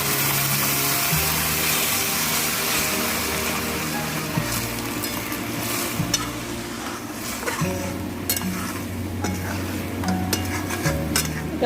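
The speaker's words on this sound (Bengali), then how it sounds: "একটু জল দিয়ে দিচ্ছি।" Water added to frying khichuri and stirred, a close bubbling sizzle with repeated spoon scrapes and pot clinks in a steady rhythm, no talk.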